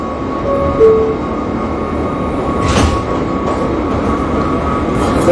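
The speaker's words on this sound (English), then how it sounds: "This is a Bay Ridge 95th Street bound R local train." An R68A subway train runs steadily in the OpenBVE simulator on the R local toward Bay Ridge 95th Street, with a continuous rumbling roar, a steady hum and a brief squeal near the start.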